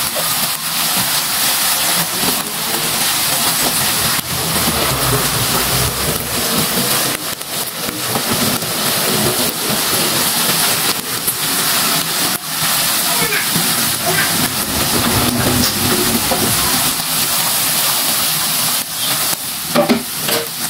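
Fried chicken pieces are stirred in a pan with chili sauce, giving a loud, steady, broadband sizzle with scraping stir sounds throughout and a voice speaking over it.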